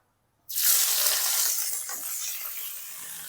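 Chopped onions for onion samosas dropping into hot oil set off a sudden loud sizzle that holds steady as a close, bright hiss and crackle, with no talking.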